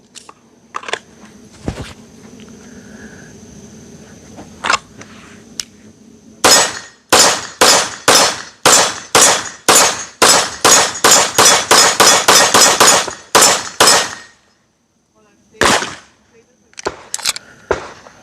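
A Kimber KDS9C Rail pistol fires a rapid string of about twenty sharp, loud shots at a steady pace, with a few scattered shots before and after and low voices in between.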